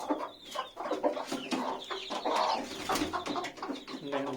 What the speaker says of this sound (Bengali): এগুলা চিটাগাঙের পাহাড়ি মোরগ গুলা এরকম বড় বড় হয়